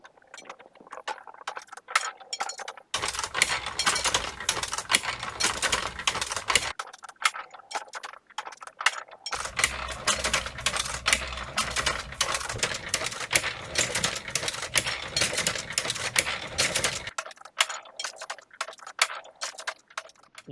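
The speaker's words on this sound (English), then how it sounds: "now we'll let the rollers do the rest of the mixing" Letterpress ink rollers running to mix ink on a printing press: dense, continuous mechanical clatter in two long stretches, with quieter ticking between and around them, no talking.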